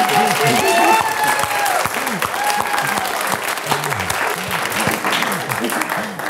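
An audience at an ethics competition awards ceremony claps for a fourth-place team, a steady burst of applause with a few louder individual claps standing out over the crowd.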